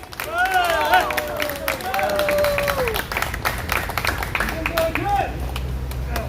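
Crowd applauding at an outdoor political rally, steady clapping and cheering spread across the scene, with a voice speaking over it through the middle.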